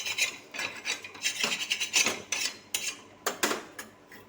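An utthapam pan being scraped clean, rapid metallic rasping and rubbing strokes in quick bursts, close and alone with no talking.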